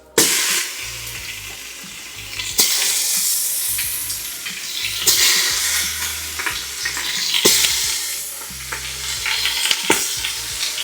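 Shredded beef sizzles loudly and steadily in a hot pan, with a continuous crackling fry and periodic scraping and stirring clatter throughout, no talking.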